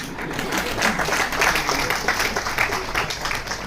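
A Tamil stage event audience breaks into sustained applause and clapping, a dense steady patter of many hands filling the hall for several seconds without pause.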